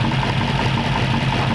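A steady, smooth engine idle with a low even hum and faint rhythmic pulsing, continuous and close, with no voices.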